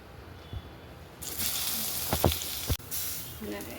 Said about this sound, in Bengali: অল্প হলুদ আর নুন দিয়ে এটাকে ভাজবো